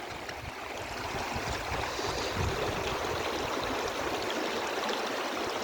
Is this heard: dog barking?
no